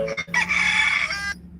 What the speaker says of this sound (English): rooster, shut the hell up